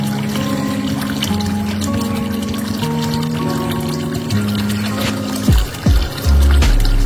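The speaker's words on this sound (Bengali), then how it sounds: "আজকে একটুখানি এই গাছগুলোকে এই পন্ডের মানে আমার ফিশ পন্ডের জলটা দেবো একটুখানি" Water taken from a fish pond pours and trickles steadily onto garden plants, a continuous close splashing stream that ends in a few gurgling splashes.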